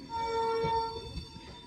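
A train rumbles along the rails at Howrah station with a steady low roar and sustained tonal hum, close by, easing slightly toward the end.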